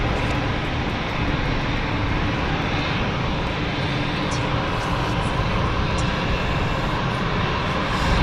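A plane on the Geneva flight at London City Airport, a loud, continuous broadband engine roar that holds steady with no voices.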